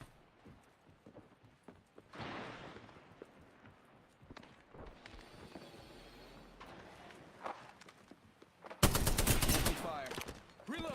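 Gunfire in the Apex Legends battle royale, with scattered shots and mechanical clatter building to a loud, dense burst of rapid fire near the end, mixed with footsteps and game sounds.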